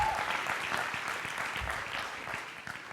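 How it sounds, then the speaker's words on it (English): An audience claps for a business partner at a talk, a dense patter of many hands held at a moderate, fairly distant level for a few seconds with no voice over it. "go ahead, you can clap for Travis"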